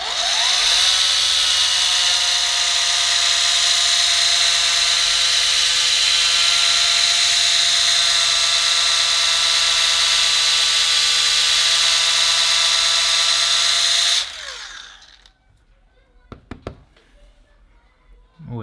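Liquid Elements A1000 mini polisher runs loud and steady with a high whining motor tone for about fourteen seconds on a small patch of paintwork, then stops, leaving a few faint taps and knocks.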